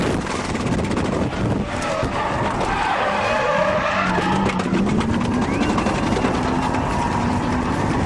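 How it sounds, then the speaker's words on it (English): A Nissan R32 drift car at full speed loses grip and spins, tyres screeching and skidding loudly over a roaring engine, with wind buffeting the microphone and a faint voice in the background. "As Tezuka reaches full speed on the back straight, it lets go completely, sending him into the spin."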